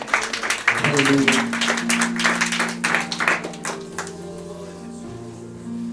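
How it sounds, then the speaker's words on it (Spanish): A church congregation claps together in a burst that fades away, while a voice speaks over it and sustained keyboard or organ tones continue beneath. "Denle un aplauso al Señor por María."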